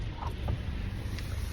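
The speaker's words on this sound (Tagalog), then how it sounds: "ngayon umulan ulit" Heavy rain in Chilliwack, BC, falling as a steady, dense patter and hiss that runs unbroken and fairly close throughout the short stretch.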